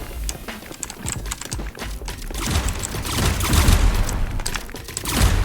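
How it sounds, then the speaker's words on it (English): In the video game FragPunk, a smoke bomb deploys amid explosions and rapid gunfire, heard as a dense clatter of bursts building into louder booming blasts, with keyboard clicks mixed in. "Smoke bomb deploying."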